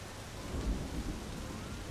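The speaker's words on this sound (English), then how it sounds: "It's raining over here too." Rain pours steadily in the video game My Summer Car, with a low rumble of thunder swelling briefly in the middle, a dense hiss of falling water throughout.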